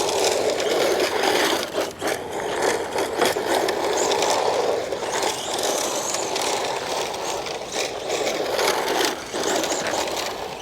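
A Team Associated SR10 dirt oval RC car runs on a loose surface under light throttle, giving a steady electric whine with scattered gravelly crunches and ticks, close and continuous for about ten seconds.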